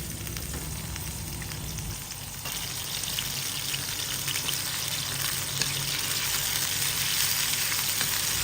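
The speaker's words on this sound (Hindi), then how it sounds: "ये कीमे को हमें डालना है ऑयल में और अब कीमे को हमें इसमें ऑयल में फ्राई करना है।" Keema minced meat fries in oil in a pan over a high flame, a dense continuous sizzle that swells louder as the meat goes in and keeps crackling steadily up close.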